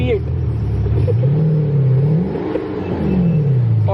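A V8 car engine revs up and down loudly and close by, with a steady exhaust rumble that rises and falls in pitch.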